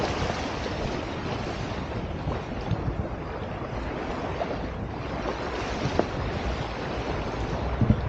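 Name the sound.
ocean waves where Kaveri river meets the sea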